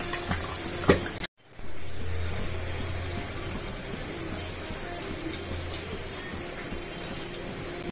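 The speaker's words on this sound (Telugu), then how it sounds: "వంకాయలు కట్ చేసుకోవడానికి అయితే దొడ్డు వేసి వాటర్ వేసేసుకుంటున్నా" Water is poured into a bowl of cut eggplant pieces as a steady, even rush that starts after a brief knock and short gap, then continues alone at moderate loudness.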